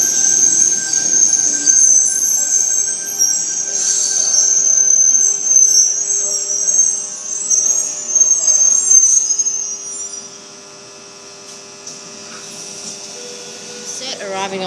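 Sydney Trains set pulling into platform 1 at Sydenham station, with steady high wheel squeal and rolling rumble close by that fades to a quieter hum as the train slows, while a voice talks over it.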